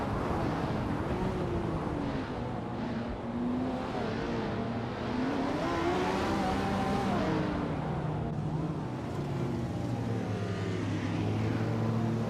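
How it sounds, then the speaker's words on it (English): Several race car engines in a racing video game drone and rev together, layered pitches shifting up and down continuously at steady loudness for the whole stretch, with no talk. "especially when you're watching these AI cars race"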